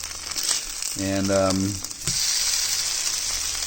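Scrapple sizzles and fries in a pan as a piece is flipped, with a steady hiss and a brief scrape of the turn, and a short word spoken over it.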